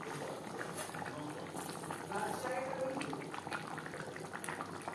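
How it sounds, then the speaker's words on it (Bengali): Potatoes boiling in a pot on a gas flame, a steady close bubbling and simmering hiss that runs continuously at even loudness throughout, with a few brief louder gurgles partway through. "আলু বেশ ভালো করে ফুটিয়ে নেব।"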